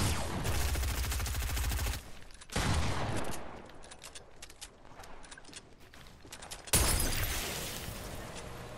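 Rapid bursts of gunfire in the video game Fortnite, two loud sustained volleys separated by quieter stretches of scattered shots, with no talk.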